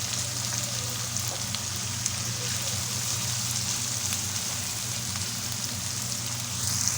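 Tomatoes hit hot oil with softened fried onions in a home kitchen pan, giving a steady, close, even sizzle and crackle that holds through the whole stretch with no talk.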